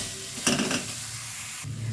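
A spice masala with ginger paste sizzles softly in a pan, and a few short scrapes of stirring come through over the quiet frying hiss.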